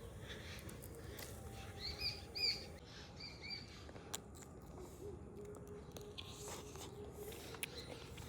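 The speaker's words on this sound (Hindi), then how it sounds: "चिड़िया सब खूब हल्ला कऽ रहल है, खूब चिड़िया छै।" Birds chirping in garden trees in rural Mithila, with faint, scattered tweets and short calls among quiet outdoor background noise and occasional small knocks.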